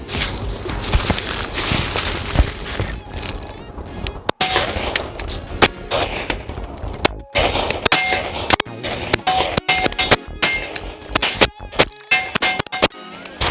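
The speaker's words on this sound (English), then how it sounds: "I just did rapid fire, almost as fast as I could pull the trigger." Rapid fire from a 9mm pistol, a quick string of sharp, loud shots in irregular bursts close to the microphone, with clanking impacts between them.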